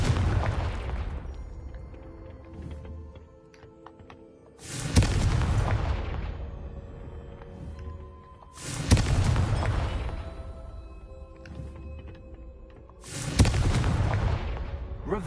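Confringo blasting spell explosions ring out as four loud, booming blasts roughly four seconds apart, each with a heavy low rumble that fades into a lingering tail.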